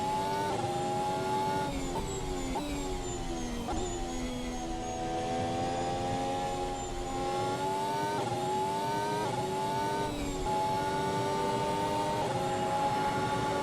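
A race car engine in a racing simulator game, set at a 1966 Le Mans track shootout, revs steadily and climbs through repeated upshifts, each gear change marked by a quick dip and rise in pitch, sustained and alone without talk.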